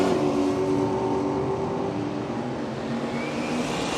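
Holden HQ and FE drag cars launch side by side down the strip at Willowbank Raceway, Australia, giving a loud, sustained engine roar that holds steady for several seconds.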